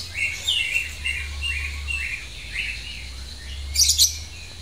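A small female lovebird chirps a series of bright, repeated short phrases over a low steady hum, ending with a sharper burst of tweets.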